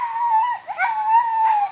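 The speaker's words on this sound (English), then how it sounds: "So let's go hook up our dogs." Sled dogs howl loudly and close together in long, sustained wavering tones, overlapping with a short yip-like break midway, with no talking.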